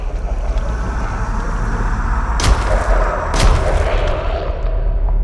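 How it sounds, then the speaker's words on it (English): Two sharp blasts about a second apart as exploder dreadlings detonate in the horror game DreadOut 2, each bursting loudly over a steady windy rumble. "I guess I never had enough space to find out they just explode after a couple seconds."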